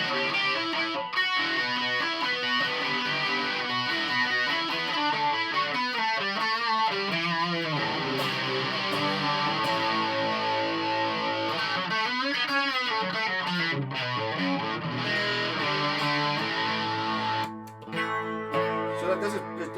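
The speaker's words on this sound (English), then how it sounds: "Run the distortion pedal into it." Electric guitar played through a distortion pedal feeding a chorus pedal, a continuous dense, fuzzy and shimmering tone of sustained chords and riffs that fills the whole stretch.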